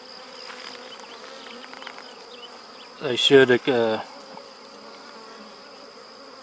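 Bees hum in a small nucleus colony, a faint, steady buzz that continues throughout, briefly interrupted by a short spoken remark near the middle.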